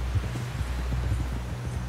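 Horse hooves clip-clopping at a steady walking rhythm in Red Dead Redemption 2, a continuous low patter of hoofbeats close up, with no talk.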